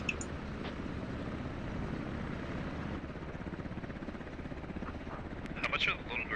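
Helicopter rotor chop in the video game Squad, an attack helicopter thrumming steadily and fairly close under ongoing talk, with a brief sharper burst near the end.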